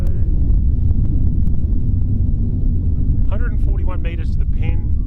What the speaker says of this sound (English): You can probably hear right now in the microphone there's quite windy.